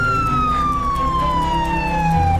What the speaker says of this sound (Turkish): Açın ambulans geliyor açın.